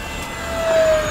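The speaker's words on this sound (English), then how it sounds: "Okay, fast flyby. There's full throttle." A beginner RC F-15 Eagle jet at full throttle on a fast flyby makes a steady, whooshing roar with a thin high whine that swells slightly louder as it passes, with no talking.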